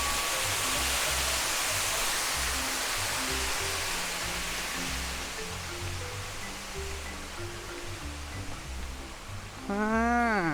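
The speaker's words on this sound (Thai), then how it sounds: "ปั๊มน้ำปั๊มน้ำดันน้ำตกครับ" Artificial waterfall at a garden cafe, pushed by a water pump, pouring as a steady broadband rush close by, with a low rhythmic pulse beneath and a brief rising squeal near the end.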